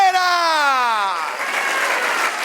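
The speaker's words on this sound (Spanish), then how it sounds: "Den un aplauso al Señor." Congregation applause at a Spanish-language church service, a loud sustained wash of clapping that follows a voice sliding downward at the start.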